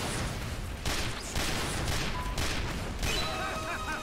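Bursts of gunfire in Team Fortress 2, several broad, loud blasts clustered close together with a busy game mix underneath.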